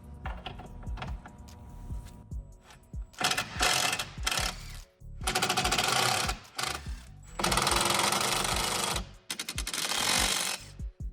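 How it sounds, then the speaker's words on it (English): A power driver loosens four T30 Torx screws from the top bar of an Audi SQ8, several loud whirring bursts separated by pauses, close and alone. "Now it's just 4 T30 screws, and we're just gonna loosen them."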